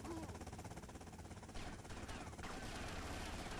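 Dense, rapid gunfire in GTA Vice City Stories on PSP, a continuous rattling barrage of shots heard up close and fairly loud with no talking.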